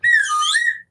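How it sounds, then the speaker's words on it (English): A person gives one short, loud whistle lasting under a second, a bright wavering tone that slides slightly up and down, alone with no talking. "That gets a whistle."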